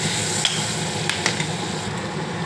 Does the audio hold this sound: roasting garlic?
yes